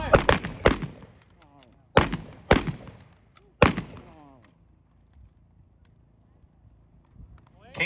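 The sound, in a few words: volley of K98 Mauser rifle gunfire at a gun show demo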